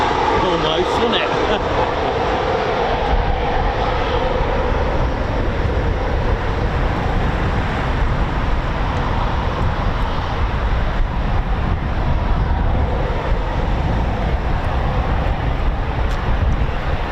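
An RAF Eurofighter Typhoon FGR4 roars steadily overhead at RAF Coningsby, a dense, loud jet rumble that holds for the whole stretch, with speech mixed in under the noise.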